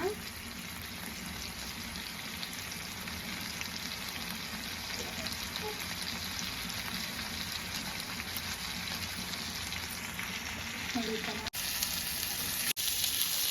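Fish frying in oil on a flat tawa, a steady close-up sizzle and crackle that runs the whole time with no break.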